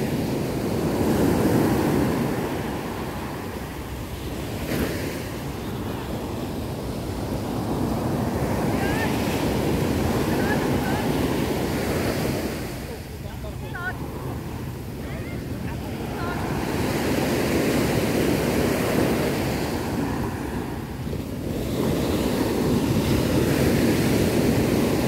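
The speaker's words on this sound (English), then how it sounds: "Big waves." Big ocean surf crashes and rolls continuously at Nha Trang Beach in Vietnam during the rainy season, a loud steady roar of breaking waves with wind buffeting the microphone, swelling and easing in long surges.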